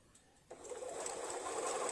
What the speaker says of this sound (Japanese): リッカーのホリデーヌのミシンですけれども、長らく使用しませんと